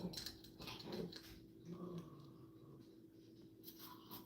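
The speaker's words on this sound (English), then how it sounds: "That's a specific growl when Hydra has a toy of some sort" A small dog growls low and steadily at close range while another dog holds a toy, with faint scratchy handling noises in a quiet room.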